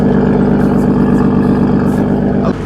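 A car engine idles steadily and close by, a rough, deep, continuous rumble with a throbbing low pulse that holds level until it dips slightly near the end.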